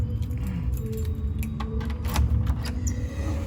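Keys jangle and clink near a door lock while the door of a new home is unlocked, with metallic rattles over a low rumbling background.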